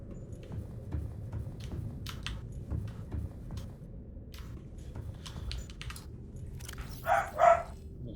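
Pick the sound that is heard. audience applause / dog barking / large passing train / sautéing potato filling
dog barking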